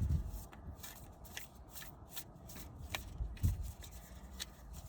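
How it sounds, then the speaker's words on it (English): A deck of gratitude cards is shuffled by hand, giving soft repeated riffling and rubbing bursts, fairly quiet and close, with no speech. "I'm shuffling my gratitude card deck as we speak"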